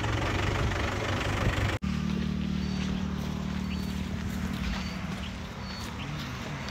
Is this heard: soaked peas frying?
no